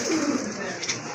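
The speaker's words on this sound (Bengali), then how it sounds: "এখানে কিন্তু আরেক জোড়া কবুতর দেখতে পাচ্ছেন" Pigeons at a bird market coo softly through a short stretch, low throaty calls close by amid steady background chatter and market noise.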